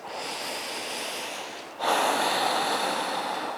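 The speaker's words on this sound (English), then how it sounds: "Deep breaths" Deep breathing in an all-level vinyasa yoga session: a long, even exhale that stops briefly and then turns into a louder, rushing breath, close and with no voices.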